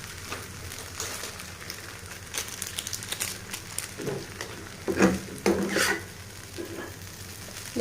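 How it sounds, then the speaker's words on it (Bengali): Maggi noodles being stirred in a pan to coat them with the masala: soft scraping and light sizzling, with a few louder utensil scrapes toward the end, fairly quiet and close. "তো আমি এটাকে ভালো করে মশলাটাকে মাখিয়ে নিচ্ছি।"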